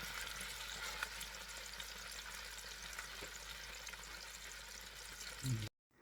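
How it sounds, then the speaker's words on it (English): Chuck roast sears in an Instant Pot with a dense, steady crackling sizzle, close and continuous, ending in an abrupt cut. "I want you to hear how this InstaPot is sizzling"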